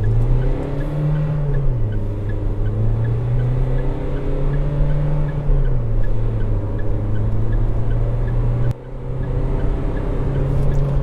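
Mahindra XUV300 AMT diesel revving up toward its redline in manual mode, a loud close engine drone rising and falling in pitch through gear changes, with no talking.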